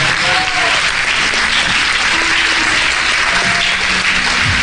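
A church congregation breaks into loud, sustained applause, a dense, steady wash of many hands clapping close by that fills the whole stretch without a break.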